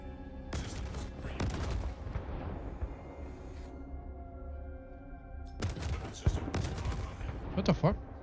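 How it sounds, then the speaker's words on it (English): Rocket pod explosions in a video game burst out as loud gunfire-like blasts in two clusters, with a quieter stretch of rumble and lingering tones between them. "That's the rocket pods. Oh, the explosions actually."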